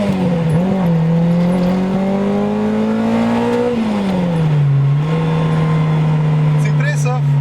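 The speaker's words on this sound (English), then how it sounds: "I'm gonna put it into first gear and let's see what this car feels like." Nissan Sabre 200GXI pulling hard in first gear, its engine note climbing steadily, dipping at a shift, then holding a loud, close drone.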